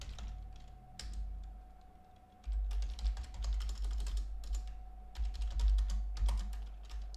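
Steady bursts of typing on a computer keyboard, a quick run of clustered keystrokes with short pauses, heard close and alone against a low background hum.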